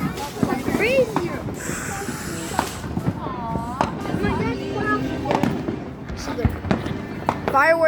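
Fireworks burst and crackle in rapid succession on a night like the 4th of July, with loud bangs, hissing whistles and sizzling trails, while people talk and exclaim over the display.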